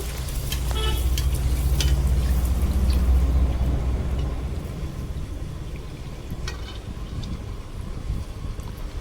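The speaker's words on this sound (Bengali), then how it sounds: "তো একে একে আমি সব লুচিগুলোই ভেজে নেব।" Luchi flatbreads deep-frying in hot oil for a Laxmi Puja offering give a steady, dense sizzle close by, with a heavier low rumble through the first half that eases off later.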